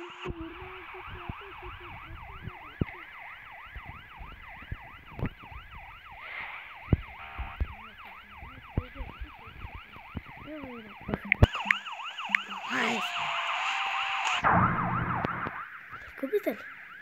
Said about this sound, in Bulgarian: Чуй, има сиренки.